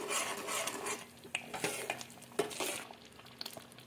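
A spoon stirring tomato thokku with asafoetida in a pan, with a soft sizzle underneath and several sharp clinks and scrapes of metal against the pan at irregular intervals.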